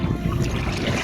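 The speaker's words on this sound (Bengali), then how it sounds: "পানির স্রোতগুলো আপনাদেরকে দেখাই, কি যে ভালো লাগবে আপনাদের" River water currents flow steadily at Dogortoli, a continuous close rushing wash with low rumble and some wind buffeting the microphone, with no talking.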